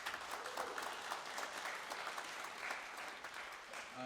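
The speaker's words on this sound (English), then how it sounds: "Let's give him a round of applause, please." Steady applause from a concert audience at a college jazz ensemble performance, sustained clapping at moderate volume throughout, slightly distant.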